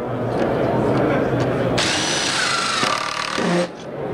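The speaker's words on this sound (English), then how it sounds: "Run your drill at full speed and just follow it on down." A power drill whirs at full speed, driving a deck screw for a couple of seconds, after scraping and rubbing sounds, then stops abruptly.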